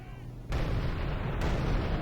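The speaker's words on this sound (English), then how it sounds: "It's got all these cannons constantly shooting." Two heavy booming cannon blasts in quick succession in a siege video game battle, loud and dense, the second landing under the rumble of the first.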